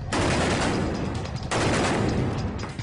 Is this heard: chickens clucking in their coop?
no